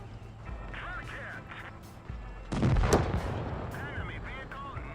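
Tank cannon fire in the mobile tank game WOT Blitz, a German Pz.Kpfw. IV Ausf. D trading shots with a Chi-Ha: a loud, booming shot erupts midway over a steady engine rumble and lingering battle ambience, with faint whistling tones around it.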